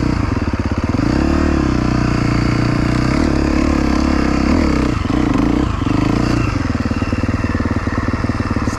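A motorcycle performing a pivot wheelie on a sandy surface, its engine loud and close, holding a steady throbbing idle with uneven rev swells and slight clatter partway through.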